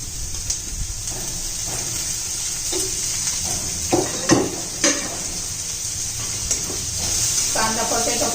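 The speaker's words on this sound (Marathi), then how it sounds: "कांदा चांगला परतून घेऊया" Chopped onion and green chilli sauté in a hot pan with a steady background sizzle, broken by several sharp spoon scrapes and knocks against the pan.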